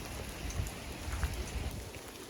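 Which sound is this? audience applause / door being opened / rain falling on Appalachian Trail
rain falling on Appalachian Trail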